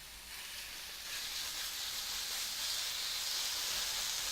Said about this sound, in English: So in goes each pork chop with the peppered and salted side down.